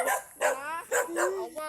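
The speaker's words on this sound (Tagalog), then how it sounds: "Ito yung aso" A dog barks close by in a quick run of four or five sharp, yelping barks with brief gaps between them, loud and clear with no talk over them.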